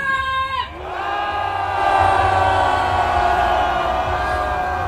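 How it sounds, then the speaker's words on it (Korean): A big crowd at a street march lets out a long, sustained roar of shouting and cheering, loud and continuous, right after a short amplified tone cuts off. "함성 질러볼까요? 함성 시작!"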